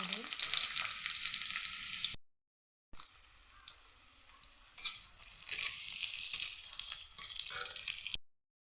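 Onions and spices frying in hot oil with ginger and garlic for a kasu xaak dish, a loud bright sizzle with stirring that cuts out briefly, then resumes steadily with scraping and crackle.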